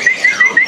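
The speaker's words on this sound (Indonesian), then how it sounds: "Tadi ada yang bunyi ya, kawilis ini." A caged cucak wilis bird at the Pramuka bird market giving four quick, evenly spaced high chirps, loud and close, with no talking.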